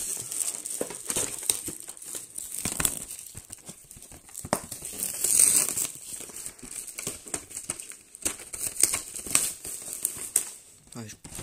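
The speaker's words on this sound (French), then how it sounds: "je vais ouvrir un coffret Pokémon Mega Cameroid X. Voilà. Donc, on va l'ouvrir." Cardboard and plastic wrap of a Pokémon Mega Camerupt EX collector box being handled, torn and crinkled, with scattered rustling bursts throughout; a person speaks intermittently over the packaging noise.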